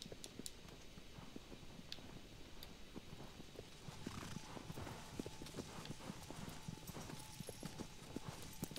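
Horse hooves clip-clop steadily in the video game Shadow of the Colossus, a rapid galloping rhythm under a hissing, noisy background, loud throughout.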